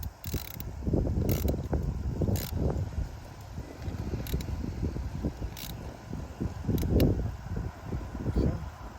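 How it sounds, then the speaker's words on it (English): An 8mm socket tightens the hose clamps on a catch can in the engine bay of an Audi B9 S4. It gives soft repeated ratcheting clicks close by, in irregular bursts with small handling knocks. "you're going to take an 8mm and just tighten down"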